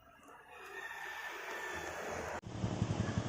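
A rooster crows outdoors in the rural Philippines during a solo bike ride, fairly close and drawn out over steady wind noise, followed by a louder gust-filled stretch.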